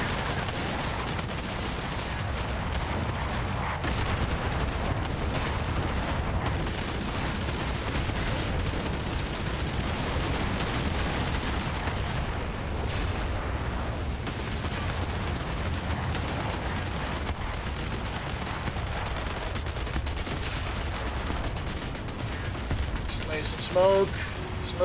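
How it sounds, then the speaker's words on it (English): Dense, continuous machine gun fire and explosions from small boats in a War Thunder naval battle, loud and chaotic throughout, with voices mixed into the din. "Machine gun fire."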